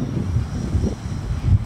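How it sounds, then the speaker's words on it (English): Wind gusting against a microphone outdoors near a track before a first flight, a steady low rumble with buffeting surges that swell and ease through the moment, no voices present. "Pretty windy."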